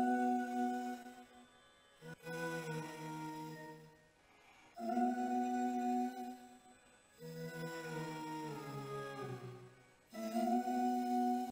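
Layered choir vocals with reverb stuck on sing sustained, harmonised chords in four swelling phrases separated by short dips, with each note washing into a reverberant tail.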